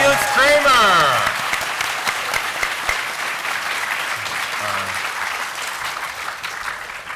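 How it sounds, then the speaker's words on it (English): Audience applause at a PAX West 2016 panel, a loud dense burst of clapping that sustains and slowly tapers across the room, with some voices and a faint tonal sound early on. "Please clap very loudly for Brad Shoemaker, Aaron Trites, and Felix Kramer."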